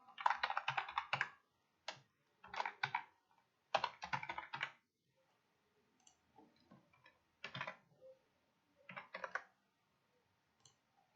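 Someone types on a computer keyboard, entering a name into a web form, with quick close bursts of key clicks separated by short pauses and a few lighter scattered taps.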